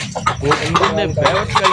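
A hen clucks in short, throaty bursts, close by and fairly loud, with a few higher squawky notes mixed in.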